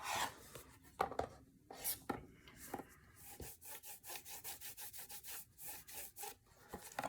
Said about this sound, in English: I'm gonna go ahead and kind of try to get all the wrinkles out of the tape